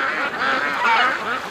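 A short burst of duck calls from a flock being herded by a dog near a creek, the honking quacks blended together and fairly close.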